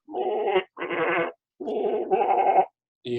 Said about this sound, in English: other goats responding.